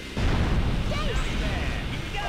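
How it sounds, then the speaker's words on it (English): A blast goes off in the Sonic Heroes video game: a sudden low rumbling burst that rolls on for a couple of seconds amid game effects. "You want explosions? I'll give you explosions, buddy."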